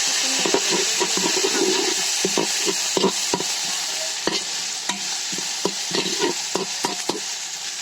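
Onions browned in a pan sizzle steadily as garlic paste and ginger paste go in for biryani, with repeated clinks and scrapes of a spoon stirring through the frying mixture, close and fairly loud, no talking.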